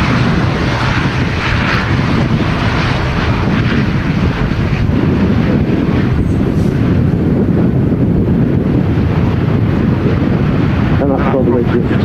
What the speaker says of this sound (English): Starting its takeoff roll is a 2E Dreamliner repositioning to London Gatwick